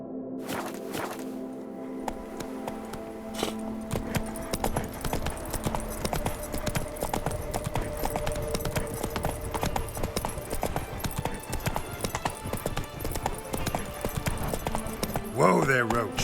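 A horse's hooves clip-clop steadily on the ground in The Witcher 3, close and rhythmic, slowing toward the end as the horse neighs briefly.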